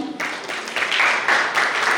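Audience applause at a music video launch event: dense clapping from a crowd, steady and moderately loud, with a faint voice briefly at the start.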